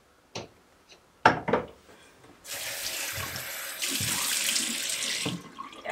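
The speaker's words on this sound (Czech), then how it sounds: "Si umyju obličej tady s tou vyšší pěnou" A face being washed with foaming cleanser under running tap water: a few knocks and clatters at a sink, then the faucet opens into a steady, close rush of water that continues to the end.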